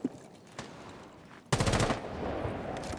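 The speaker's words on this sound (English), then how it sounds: "He shot one bullet and immediately the gun pulled down in an instant." Gunfire from a video game match replay: a couple of isolated shots, then a loud sustained automatic burst that rings out and decays.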